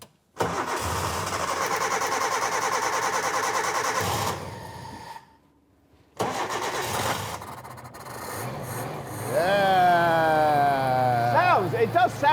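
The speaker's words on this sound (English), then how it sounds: "will the car actually run?" An old car engine cranks and churns, stops briefly, then catches and revs loudly, rising and falling in pitch as it runs close by.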